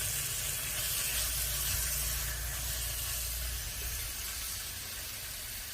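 Boneless skinless chicken drumstick pieces sizzling on a Blackstone griddle, a steady close hiss and crackle that continues without a break and fades slightly toward the end.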